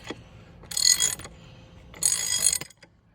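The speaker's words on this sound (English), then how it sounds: "Jack it up a little higher, put it on the vehicle." A jack being raised beneath an old-school crane during a tire repair, giving two loud bursts of mechanical ratcheting and grinding separated by a quieter pause, close by with no talk.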